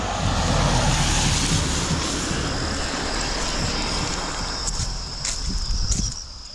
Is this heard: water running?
yes